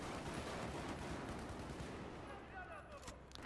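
Quiet, continuous gunfire from a team shooter video game, rapid shots blending into a dense rattle that thins toward the end, with a voice faintly present underneath.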